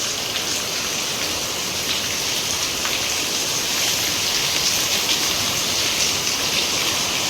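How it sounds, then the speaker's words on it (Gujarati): The first monsoon rain falls steadily in a dense, even hiss of drops hitting surfaces. It stays constant and fairly close with no voices over it. "શું આવ્યું બેટા? વરસાદ આવ્યો?"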